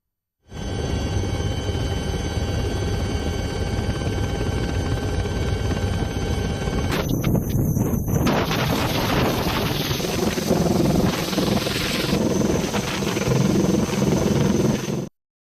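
A helicopter flying over flooded Vijayawada to drop food supplies gives a continuous loud engine and rotor roar with a steady whine and wind buffeting, shifting in tone partway through.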